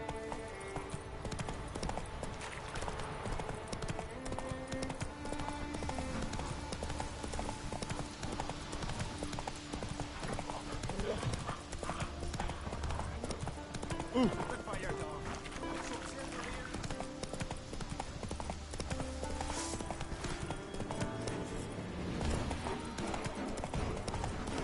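Galloping horse in The Witcher 3, hooves clip-clopping in a continuous rhythm under music, with a voice talking over parts of the ride.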